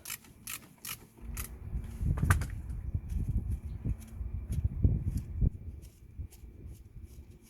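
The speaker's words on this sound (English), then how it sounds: "we're going to use a 19mm spanner to stop the guide pin from spinning, and then we're going to undo the 13mm bolt" A spanner working a 13mm caliper bolt on the front brake of a 2016 Toyota Verso 1.8 VVT-i, giving close metallic ratcheting and clunks in irregular bursts, with a few sharp clicks at the start.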